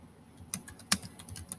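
Fast typing on a computer keyboard: a quick, irregular patter of sharp clicks over about a second and a half, close and fairly quiet, one key strike louder than the rest, no voices.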